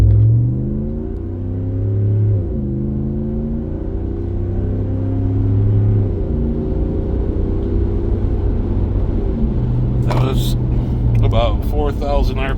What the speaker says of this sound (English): We'll do some moderate acceleration here.